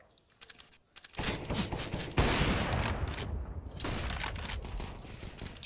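Rapid gunfire from a Counter-Strike: Global Offensive match on the Dust2 map, bursts of automatic shots firing loud and close in dense volleys that continue steadily after a brief quiet start.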